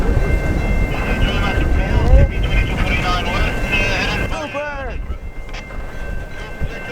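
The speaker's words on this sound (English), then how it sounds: "With a fresh crew in Minnedosa, now the train can make its way all the way to Saskatchewan" The CPKC Holiday Train running along the line near Minnedosa, Manitoba, a loud continuous rumble with squealing wheel tones and horn-like sweeps, fading somewhat toward the end.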